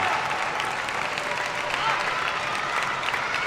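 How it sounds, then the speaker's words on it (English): A restless crowd at a men's team table tennis semifinal involving China murmurs, calls out and claps in a dense, loud, continuous wash, with a commentator talking over it. "crowd getting mad"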